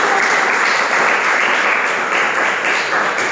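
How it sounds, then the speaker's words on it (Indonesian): Loud, steady clapping fills a classroom after a student group finishes its presentation, even and continuous throughout with no voices rising above it. "Tepuk tangan."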